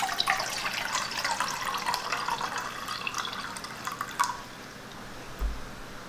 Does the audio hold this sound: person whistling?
no